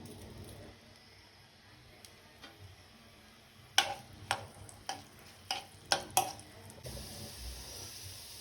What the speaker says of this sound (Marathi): त्याला फक्त चिरलेल्या कांद्याची फोडणी, बस,